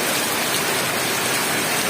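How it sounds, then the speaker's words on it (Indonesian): Steady heavy rain pours down in Basungan, a continuous dense hiss of drops on surfaces that stays loud and even throughout, with no voices. "Hujan seharian."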